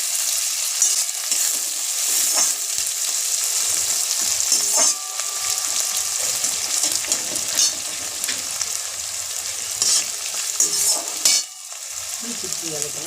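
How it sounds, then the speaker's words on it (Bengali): Onions frying in a pan give off a loud, dense, unbroken sizzle, with frequent stirring scrapes and small crackles over about thirteen seconds, heard close and without talk. "পেঁয়াজটা আমি একটু ভেজে নেব।"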